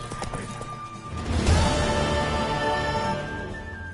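A horse's hooves clop in The Witcher III, a few sharp hoofbeats up front, then a louder thud and a rumbling swell as the animal moves, with no talk over it.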